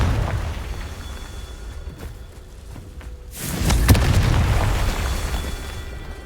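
A Confringo blasting spell explosion in the Hogwarts Legacy video game, a loud booming burst midway that swells over a steady background rumble and lingers as a dense roar.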